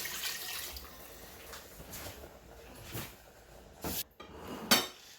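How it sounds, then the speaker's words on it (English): Ingredients for Nigerian ogbono soup are rinsed in water in a pot, with sloshing, swirling water and occasional clanks of metal near the mic, fairly quiet. "Now I will rinse it and add more water for my soup."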